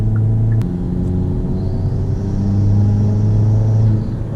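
Hyundai Elantra N fitted with a Forge turbo inlet and intake accelerating on a highway, heard from inside the car as a steady, loud engine drone whose pitch climbs and shifts through the revs.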